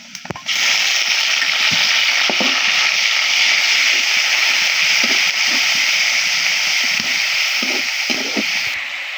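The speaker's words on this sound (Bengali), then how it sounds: "আমি এ পর্যায়ে দিয়ে দিব কিছুটা পেঁয়াজ বাটা" Onion paste dropped into onions already frying in a pan, producing a loud, continuous sizzle that bursts in suddenly and holds steady, with faint scraping and clatter underneath.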